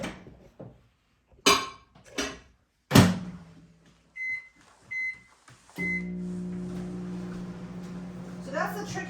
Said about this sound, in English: I'm going to put it back in the microwave.